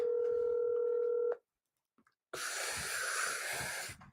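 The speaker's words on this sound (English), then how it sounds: "Let me get him on the phone if I can." A telephone dialing a call: a steady touch-tone dial tone with a brief keypad beep, cut off, then a pause and a burst of hissy line noise or breathing near the phone.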